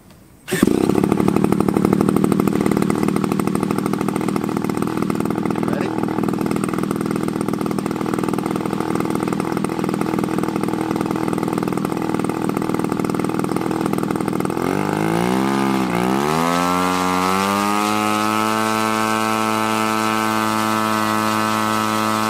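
The engine of a 1/3 scale clipped-wing Taylorcraft model airplane roars at high throttle, loud and close, holding a steady buzzing drone before dropping sharply toward the end and settling into a lower idle.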